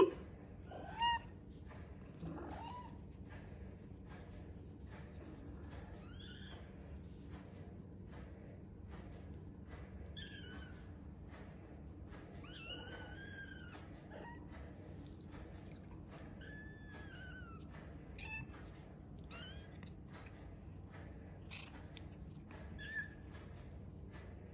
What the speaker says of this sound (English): Kittens. Exploring.